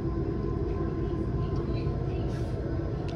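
A passenger train rumbles steadily while departing Oradea station, which is under reconstruction in Romania, with a continuous close, loud low rolling noise throughout.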